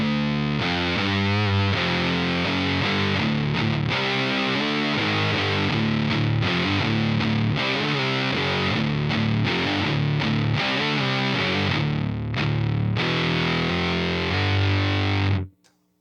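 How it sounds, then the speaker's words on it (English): Electric guitar with a starved, gated fuzz tone run through a TONEX amp model emulating a Dream 65, played as a loud, continuous riff with sputtering note attacks before cutting off abruptly at the end. "get that starved fuzz sound"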